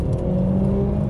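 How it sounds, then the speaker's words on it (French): Small French sports car accelerating through a gear change, with a close, steady engine drone and a shifting whine heard from inside the cabin. "Là, c'est vraiment un passage de rapport."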